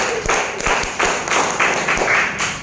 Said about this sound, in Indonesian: Tepuk tangan lagi buat PT Bisa.